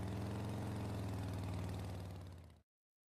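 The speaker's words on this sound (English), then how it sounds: "kick it into gear, letting the purr of the engine carry you out of town" A motorbike engine idles and purrs steadily at close range, a deep even rumble with a fast regular pulse, continuing for about two and a half seconds before cutting off abruptly into silence.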